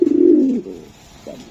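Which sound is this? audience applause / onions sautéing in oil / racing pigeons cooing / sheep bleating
racing pigeons cooing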